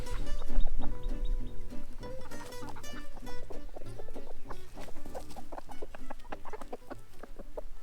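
Several chickens clucking and calling just outside their coop, a busy overlapping chorus of close, lively clucks and squawks that runs on without a break.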